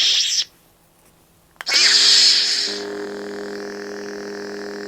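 A Yoda Galaxy's Edge toy lightsaber ignites with a bright crackling burst after a short electronic blip, then settles into a steady, moderately loud electric hum.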